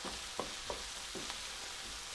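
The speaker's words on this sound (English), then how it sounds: "We're cooking these onions for about 5 minutes" Onions frying in a pan give a steady, fairly quiet sizzle, broken by a few soft scrapes as they are stirred now and then, with no voices.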